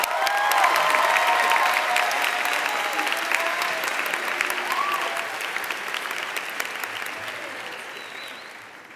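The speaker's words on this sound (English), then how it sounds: "Let's give her a round of applause." Graduation ceremony crowd at a 2015 high school gives the class president a long round of applause with some cheering, loud and dense at first and gradually fading over several seconds.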